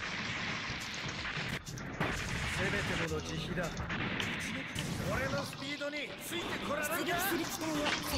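Artillery shells in the Gundam Online video game, fired from a Juaggu mobile suit on an Arctic base map, thud and boom in repeated heavy blasts, while voices talk over the steady barrage.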